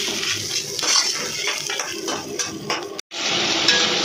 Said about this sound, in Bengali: এই যে পুরো মশলাটাকে এবার ভালো ভালো করে কষানো হচ্ছে